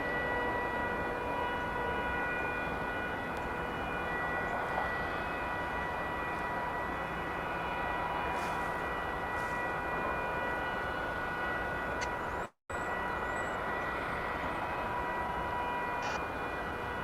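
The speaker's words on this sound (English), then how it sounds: "aloha to Flight 102, American Airlines, coming in from Honolulu" American Airlines jet from Honolulu landing at DFW Airport on a chilly December morning, a steady broad engine roar holding at an even level throughout, with no talk.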